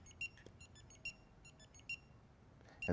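A Garmin PRO 550 dog training collar being switched on gives several short, high electronic beeps spaced about a second apart, clear over a quiet background, ending in a brief louder handling noise.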